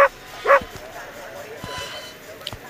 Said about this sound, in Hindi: कहाँ गई ये यार, इस कुत्ते से पीछे छुड़ाओ कोई पहले मेरा।